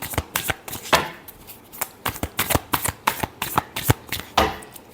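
Tarot cards being shuffled by hand, a close series of crisp riffling slaps and flicks in irregular quick bursts, with no voice over them.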